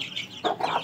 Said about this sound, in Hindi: महानोर की मुर्गी का भी एक भी नहीं बचा?